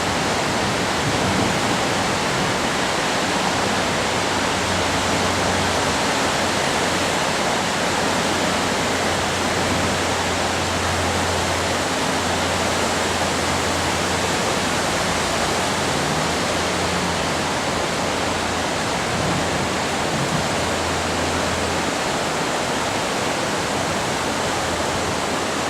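The River Torrens in greater Adelaide runs with a broad, steady rush of flowing water, a constant full-band wash that holds unbroken and fairly loud throughout.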